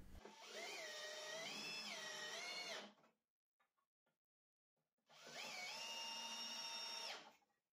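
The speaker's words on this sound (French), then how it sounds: "Donc toujours pareil, un avant-trou et deux longues vis." A power drill drills pilot holes and drives long screws into the wooden stringers of a cabin staircase: two sustained, steady whining runs of about three seconds each, close by, with a short pause of faint knocks between them.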